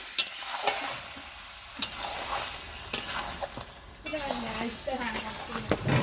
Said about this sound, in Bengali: মাংসটা দিয়ে ভালো করে কষবো